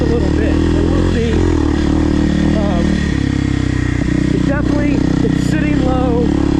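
A 2024 Kawasaki KLX300R dirt bike engine with a one-inch lowering kit drones loudly and steadily on a turn track, its pitch wavering as the rider works the throttle, with a voice talking over it.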